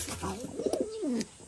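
Pigeon cooing indoors, a single short rounded coo phrase with a throaty rolling middle, close and clear, with light room noise around it.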